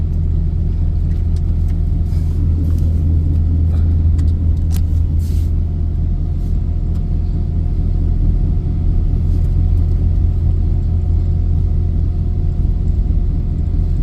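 A truck drives along a snowy grid road, its engine a steady, loud low rumble with a constant hum and faint rattles throughout, no voices.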